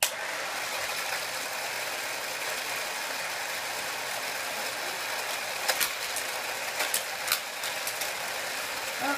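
A Hot Wheels Total Turbo Takeover motorized racing set runs with a steady whirring hum, plus a few sharp clicks and clacks from cars and track parts partway through.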